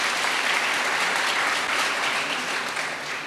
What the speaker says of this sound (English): So a little round of applause for Tim